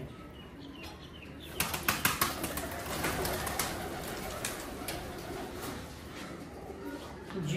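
Dab breed pigeons in a loft on a hot, still day, with soft cooing and a burst of flapping wings partway through, all close by.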